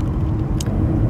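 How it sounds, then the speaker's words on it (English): Dense road traffic on a windy day near a home, a steady low rumble of passing cars with a brief hiss partway through. "so it's like a lot of traffic over here,"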